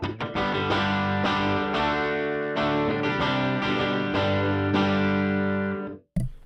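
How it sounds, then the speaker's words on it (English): A distorted, heavily processed guitar-like tone with an early reflections room effect plays sustained chords with a roomy ambience, ringing out before cutting off abruptly near the end. "what this early reflections does is gives you the sense of being in a room"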